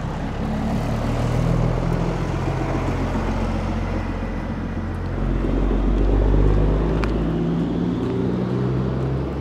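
A large truck rolls past on a city street in Boston's Seaport District near the harbor, a loud, close low rumble swelling and fading over several seconds with broadband traffic noise around it.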